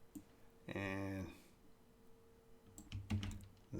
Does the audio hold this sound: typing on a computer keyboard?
yes